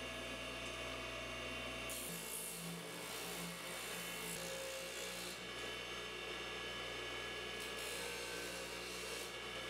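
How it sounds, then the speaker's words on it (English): Buffing and beveling the cut edges of metal strut in a machine room, a continuous rough grinding and rubbing noise with a steady machine drone. "Now that we've left the machine room and we've buffed and beveled our strut"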